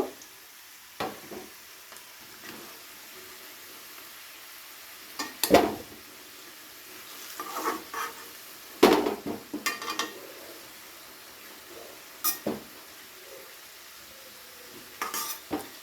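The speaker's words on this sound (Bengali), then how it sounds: "এবারে আলুগুলোকে একটা প্লেটে তুলে নেব।" Fried potatoes scraped and lifted from a frying pan onto a plate with a metal utensil, giving sparse clinks and scrapes at irregular intervals over a faint, steady sizzle, close by with no talking.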